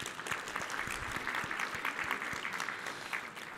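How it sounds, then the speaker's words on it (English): Audience applause in a conference session hall, lively sustained clapping with distinct individual claps standing out close by, easing off slightly at the end. "Ah, that deserves an applause."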